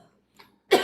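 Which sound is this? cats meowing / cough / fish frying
cough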